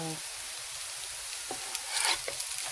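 Lentil burgers fry in a pan with a steady, dense sizzle, joined near the end by a few soft spatula scrapes and clicks as one is flipped.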